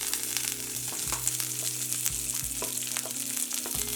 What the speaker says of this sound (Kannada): ಶುಂಠಿ, ಬೆಳ್ಳುಳ್ಳಿ, ಈರುಳ್ಳಿ ಬೆಳ್ಳುಳ್ಳಿ ಎಲ್ಲ ಸ್ವಲ್ಪ ಫ್ರೈ ಆಗಲಿ.